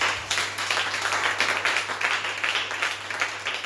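A church congregation claps and applauds for God, a dense, steady wash of many hands clapping continuously, fairly loud and filling the room, with a low hum underneath.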